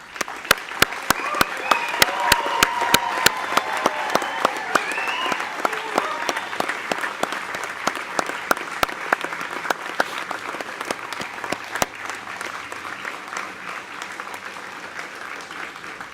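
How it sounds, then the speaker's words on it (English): An audience claps at a Fire and Rescue Recruit Course 157 graduation ceremony, loud sharp applause at first that gradually thins and fades out in a large hall. "Can I please ask everyone to be upstanding and join me in a round of applause for our graduating"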